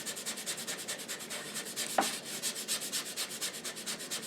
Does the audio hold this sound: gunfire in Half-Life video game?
no